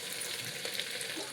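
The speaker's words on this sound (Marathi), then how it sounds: "तेल तापले, आपल्या मोहरी टाकली आणि आलं लसूण ठेचून घेतलेलं टाकते" Mustard seeds with crushed ginger and garlic frying in hot oil in a home kitchen, giving a steady, close, dense sizzle with faint crackles throughout and no talk.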